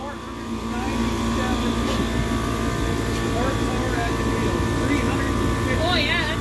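Car engine straining on a Devon Dyno chassis dynamometer during a full-power pull through the gears, a loud steady roar with rising tones near the end, people talking over it.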